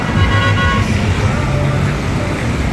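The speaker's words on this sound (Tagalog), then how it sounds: "Buti maliit pa na busina yung binusina" A vehicle horn sounds in congested street traffic where a truck is squeezing in, a short toot over a steady roar of engines and road noise.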